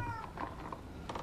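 A cat in the Forspoken video game gives a few short, close meows over a soft game ambience, the calls repeating in quick succession.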